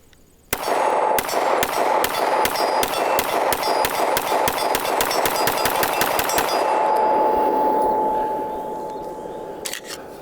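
Sig Sauer P226 X5 pistol fired rapidly, a loud close string of about twenty evenly paced shots in quick cadence, ending in ringing echoes and a couple of faint clinks afterward.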